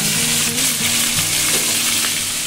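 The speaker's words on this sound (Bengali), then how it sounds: "এই যে ভাজা পটল গুলো রেখেছি সেগুলো আমি এর মধ্যে দিয়ে দেবো।" Fried pointed gourd sizzles and crackles loudly in a hot pan of oil, a steady close-up hiss with small pops and no talking.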